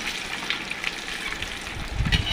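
Boiled eggs frying in hot oil give a continuous close sizzle and bubbling, with a few louder spattering pops near the end and no voices.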